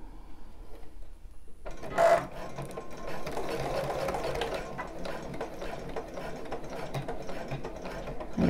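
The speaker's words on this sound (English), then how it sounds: "I'm going to sew back and forth four times" A sewing machine stitches back and forth on a bra, its fast mechanical whirr starting abruptly after a quiet moment and then running steadily and close up, with a brief louder burst near the start.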